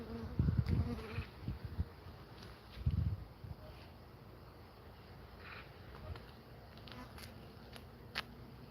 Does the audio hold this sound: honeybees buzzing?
yes